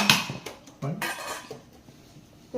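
Avakaya mango pickle being stirred with oil in a bowl, a few clattering scrapes and clinks of a utensil against the dish, close and intermittent, then trailing quiet.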